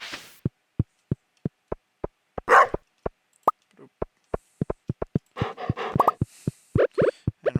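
A dog barks in the farming game Stardew Valley: a rapid series of short, crisp digital barks and plops in steady rhythm, with a few brief voice-like bursts mixed in near the end.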